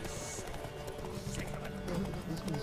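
A horse gallops during a race in The Witcher 3: Wild Hunt, a steady drumming of hooves under ambient game sound, with a voice talking faintly over it.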